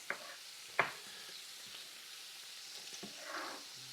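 Bacon frying in a pan while cooking cabbage, a quiet steady sizzle with occasional clicks and taps of stirring, no talking.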